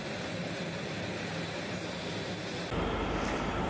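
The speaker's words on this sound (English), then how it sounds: "For this aircraft, the aircraft powerplant which generates the thrust force is a jet engine." Steady broadband roar of an aircraft jet engine, loud and continuous, with a sudden shift in tone near the end.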